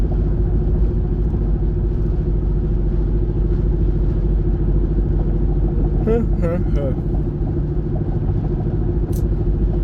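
Steady loud road rumble from inside a car coasting behind a truck on a highway at about 60 miles an hour, with continuous low engine and tyre drone throughout.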